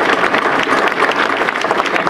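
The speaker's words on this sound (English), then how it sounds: "A big round of applause for all of you for being here tonight." An evening audience at an energy startup pitch event at MIT in Boston claps in a steady, dense round of applause that holds loud and even throughout.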